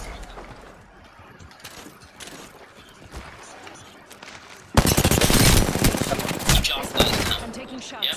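Rapid video game gunfire in a battle-royale-style match, a dense volley bursting in loudly midway after quieter background sounds and chatter, then sustained to the end.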